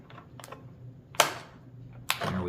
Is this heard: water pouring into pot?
no